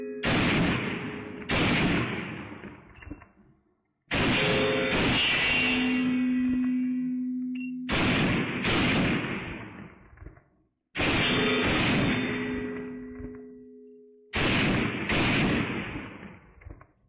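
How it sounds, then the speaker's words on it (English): Five loud pistol shots from a Fusion Firearms XF Pro, each a sharp close crack spaced roughly three seconds apart, with ringing decay trailing after every report. "We're shooting the XF Pro"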